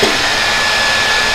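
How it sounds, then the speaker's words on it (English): A handheld blow dryer runs steadily in a close, loud, unbroken whoosh while drying natural curly hair, with no speech over it. "I'm holding my blow dryer"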